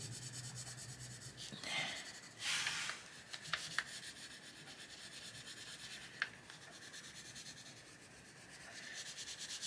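A pencil colours over small screws or tacks drawn on a paper page of an adult colouring book, producing a faint, steady scratchy rubbing with a few brief louder strokes.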